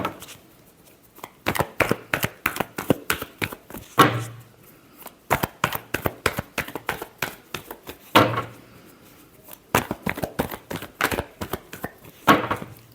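Tarot cards shuffled by hand in quick, close bursts of riffling clicks and slaps, repeating in several rounds with short pauses between, no talking.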